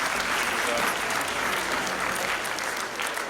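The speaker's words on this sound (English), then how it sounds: "clap for him, please." Steady, dense applause from a crowd at a West African Examinations Council event in Freetown, Sierra Leone, fills the space, sustained at an even loudness throughout with no pauses.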